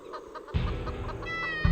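A chicken clucks close by in a quick series of short, choppy calls that rise into a longer, squawking cackle, with no voices.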